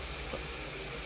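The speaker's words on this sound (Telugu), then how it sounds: "ఏంటి ట్యాప్ దానంతట అదే ఓపెన్ అయింది?" A water tap runs on its own, giving a steady, even rush of flowing water that holds unchanged through the brief moment.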